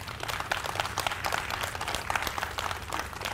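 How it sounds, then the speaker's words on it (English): An audience applauds at the 150th anniversary celebration of a water treatment plant, a steady wash of clapping heard from some distance at a fairly low level. "Can we give them a huge round of applause?"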